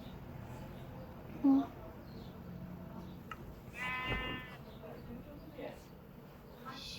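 A sheep in a video game gives one clear, wavering bleat midway, over a faint background with a soft click or two. A person talks quietly nearby.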